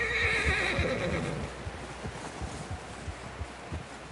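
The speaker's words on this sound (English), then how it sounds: "Someone help John down off this horse." A horse in Red Dead Redemption 2 lets out a loud whinny up close, followed by a series of hoof clops on the ground.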